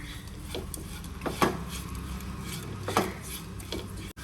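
Stirring idli upma with onions in a pan, soft scraping with a few sharper clinks of a utensil against the pan, fairly quiet and steady with no talk.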